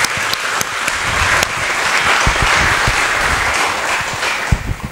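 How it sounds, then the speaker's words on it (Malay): An audience applauds warmly at a Buddhist repentance ceremony in a vihara, dense clapping holding steady for several seconds with a few sharper claps at the start. "kita beri tepuk tangan lagi buat beliau"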